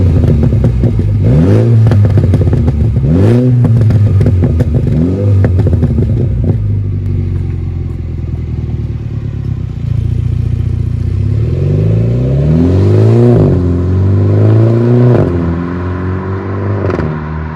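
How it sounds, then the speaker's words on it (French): Mini Cooper S converted to ethanol flex fuel revs hard several times, the engine and exhaust rising and falling in loud, close bursts with a rough idle between blips. "j'ai hâte vraiment que vous entendiez la sonorité de ce véhicule"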